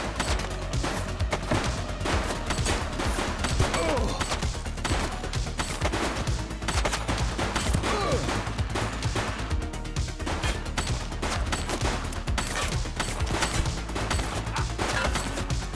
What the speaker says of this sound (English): Shots fired! Target is down.